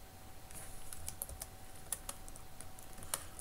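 Someone types on a computer keyboard in a quiet room, with irregular light clicks and a few sharper key taps, faint and close, with no talking.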